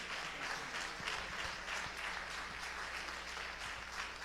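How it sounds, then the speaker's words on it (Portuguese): A congregation standing in an evangelical church in São Paulo claps in a lively, rhythmic beat to welcome a preacher. The steady pulsing applause is faint and distant and carries on for the whole four seconds. "com aquelas palmas bem alegres, bem avivadas, para receber o servo de Deus"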